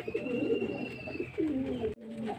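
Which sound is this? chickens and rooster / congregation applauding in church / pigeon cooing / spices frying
pigeon cooing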